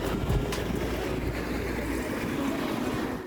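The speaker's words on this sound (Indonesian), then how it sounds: "masih ada angin-anginnya ya." Wind blows steadily outdoors beside the F1 circuit in Jeddah, a loud, continuous buffeting roar across the microphone with no voices.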